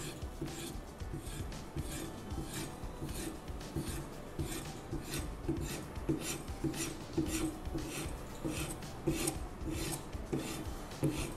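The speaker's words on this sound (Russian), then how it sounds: "Наносим алмазную пасту на дубовый бланк. После чего сразу начинаем полировку на себя." A Benchmade hunting knife is polished on an oak blank coated with diamond paste, giving rhythmic, repeated rasping strokes at a steady pace, close and moderately loud, with no talking.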